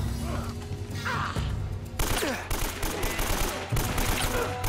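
Dense, continuous video game gunfire from Uncharted: Drake's Fortune, with rapid overlapping shots and crashes filling the whole stretch, loud and busy throughout.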